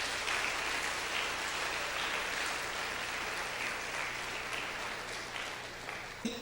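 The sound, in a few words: congregation applauding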